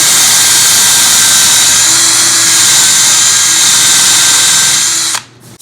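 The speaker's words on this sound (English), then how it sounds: "we're going to stay as perpendicular as we can to the top surface here, and we're going to drill down" A power drill bores countersink holes into a wooden workbench top, a loud, steady, close whine that holds for about five seconds before cutting off abruptly.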